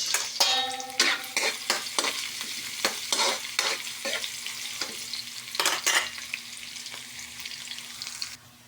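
Bay leaves, garlic and onion sautéing in hot oil for a home-style liver and gizzard adobo, a steady sizzle broken by repeated sharp scrapes and knocks of a utensil stirring the pan, close and fairly loud.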